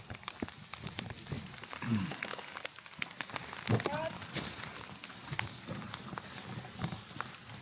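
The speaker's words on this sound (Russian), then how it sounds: "Град, брат." Hail falling outdoors during a bicycle ride in Siberia, a scattered patter of sharp ticks and clicks on surfaces, fairly faint, with brief voices in the background.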